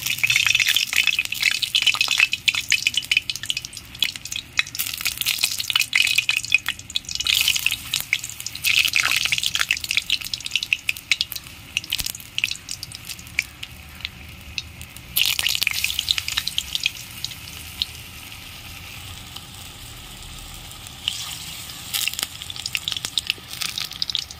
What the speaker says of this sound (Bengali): এখন আমি ভেজে নেব মেখে রাখা কুমড়ো